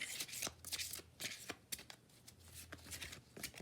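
Tarot cards shuffled and drawn for a Taurus reading, a quiet close sequence of soft riffles and crisp flicking snaps of card stock, repeating irregularly over a faint low hum.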